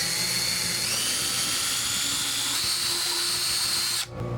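A drill enlarges a 3/16 inch rivet hole on a jon boat with a continuous high-pitched whine, close and loud, before stopping abruptly near the end.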